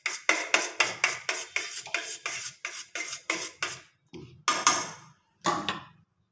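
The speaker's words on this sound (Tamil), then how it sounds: "எல்லாத்தையும் ஒன்றா சேர்த்து அப்படியே கிண்டி விடணும்" Ground avaram flower ingredients are stirred into a soap base, heard as rhythmic scraping strokes about twice a second for several seconds close by, then a few slower separate scrapes, with no talk.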